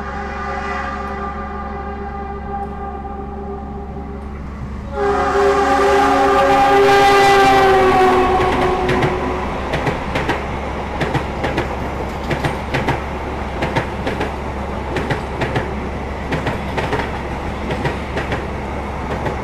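An economy-class passenger train's horn sounds loudly, then the carriages roll on with a steady rumbling and rhythmic clickety-clack of wheels over rail joints, heard from inside while departing Lempuyangan station, Yogyakarta.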